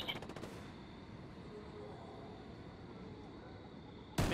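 Video game gunfire, a rapid burst of automatic shots at the start followed by a low continuous battle rumble and a sharp loud hit at the end.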